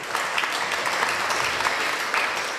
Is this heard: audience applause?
yes